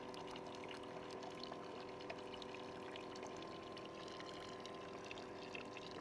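Permeate water flushes through the reverse osmosis membranes of an off-grid maple sugarbush setup, a quiet, steady pouring and pumping hiss with a faint machine hum underneath.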